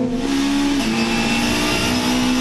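Onboard engine of a touring car racing in the 2006 WTCC round at Puebla, Mexico: a loud, steady high-revving drone with a slight pitch dip and recovery, close and continuous, with no talking.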